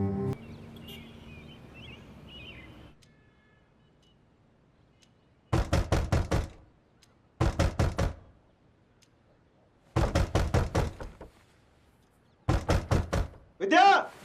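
Someone pounds hard on a door in a Bollywood film scene, with four loud clusters of rapid knocks spaced a few seconds apart, each group of several heavy thumps, after a quieter stretch of background sound.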